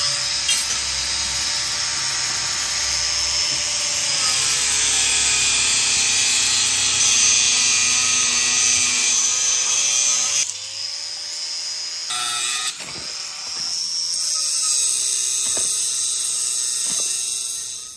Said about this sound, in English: cut some rebar.